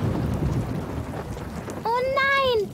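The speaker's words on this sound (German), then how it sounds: "Oh nein, da zieht ein Gewitter auf." Cartoon thunderstorm with steady rain, a continuous hiss of falling water filling the scene, with a voice speaking briefly over it near the end.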